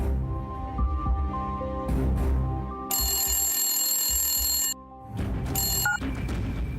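A telephone rings in repeated electronic bursts inside a Telugu TV serial scene, set over a soft drama music bed with a short pause partway through.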